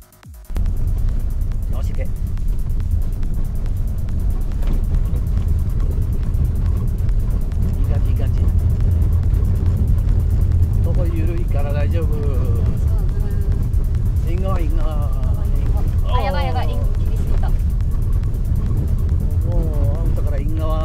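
Car accelerating on a snowy driving course, a steady engine drone and road noise throughout, while people talk and call out over it inside the cabin.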